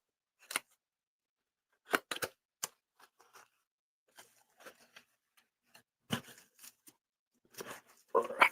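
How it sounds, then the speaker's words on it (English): Scattered crisp snips and rustles come from a package being cut open at close range, in short irregular bursts with quiet gaps between them. "I'm gonna cut this open and see what's inside this"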